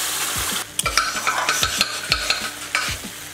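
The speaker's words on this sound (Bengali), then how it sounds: "আমাদের যেই খেজুর আর তেঁতুলের যেই মিশ্রণটা ছিল সেটা এর মধ্যে ঢেলে দিয়ে দেবো।" A date and tamarind mixture with a pinch of asafoetida in hot oil for chaat chutney, stirred steadily so a close, busy sizzle is broken by repeated rhythmic scrapes of a spoon against the pan.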